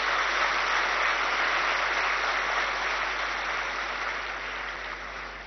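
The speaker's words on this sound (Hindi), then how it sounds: "सभी भाई बहन ताली बजा के स्वागत करें।" A welcoming audience claps steadily at a spiritual gathering, dense even applause that fades slowly toward the end.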